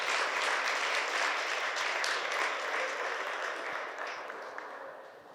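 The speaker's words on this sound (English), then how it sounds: "Give yourself a round of applause." Sustained audience applause fills a fire station ceremony for a fire chief's swearing-in, a dense steady wash of many hands clapping that gradually thins and fades toward the end.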